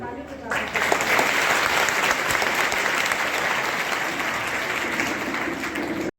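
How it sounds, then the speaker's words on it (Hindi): Loud, sustained applause from an audience at a women's helpline organisation gathering in Jhansi, erupting after a brief opening moment and rolling on evenly, then easing slightly toward the end. "तालियों के साथ"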